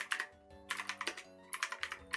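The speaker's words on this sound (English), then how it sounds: "I'm typing now." Fast typing on a computer keyboard at close range, with bursts of crisp key clicks and brief pauses between them, heard alone without talk.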